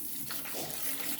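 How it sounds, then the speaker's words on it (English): Water sloshes in a bowl indoors as dirt is rinsed from roots, a short, quiet, continuous splashing and trickling with no voices. "being that I'm rinsing this indoors, I have it in a bowl"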